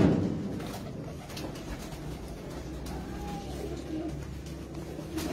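Flying pigeons coo in low, throaty murmurs against faint outdoor background noise with a distant hum like passing traffic, steady for several seconds.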